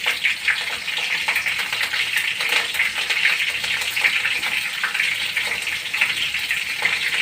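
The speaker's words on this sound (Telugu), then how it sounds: "కొంచెం దూరంగా ఉండాలండి మనం, ఎందుకంటే పచ్చిమిరపకాయలు వేసేటప్పుడు మన మీద చింది పడుతుంది" Green chillies and cumin spattering in hot oil, a dense, continuous crackling sizzle with sharp pops throughout, close and fairly loud.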